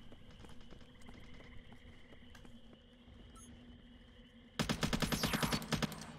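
Gunfire in the sci-fi shooter Interstellar Marines: faint, scattered clicks and distant shots at first, then a loud, rapid burst of automatic fire near the end.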